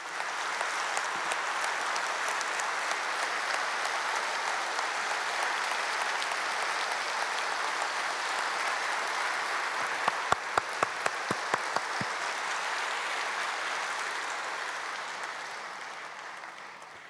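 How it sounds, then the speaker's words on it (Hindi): Applause from a large audience at a spiritual gathering runs steady and dense for about sixteen seconds, with a few sharper individual claps near the end before it fades. "तालियों की आवाज बाबा तक पहुंच गई"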